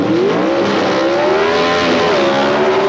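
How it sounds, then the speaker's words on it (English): At the 1979 NHRA Gatornationals, a Dodge and a Chevrolet Monza with a small-block Chevrolet engine leave the drag strip line together at high RPM, a loud sustained roar of revving engines that climbs in pitch. "High RPM as they both leave the line together."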